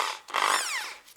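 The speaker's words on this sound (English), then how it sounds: "now I have in here 3 mm drill bite and Makita drill driver" A Makita drill driver fitted with a 3 mm bit bores a hole in a part on a BMW engine, a loud close whirring rise in pitch that holds steady for about a second, with no talking.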